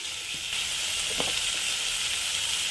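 Curry leaves and coconut sautéing in a pan, a continuous close sizzle with a couple of soft stirring scrapes, no talk.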